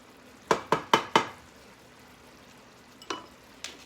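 A spoon stirs a sausage mixture cooking in a pan, with four quick knocks against the pan and then a few scattered ones over a low sizzle.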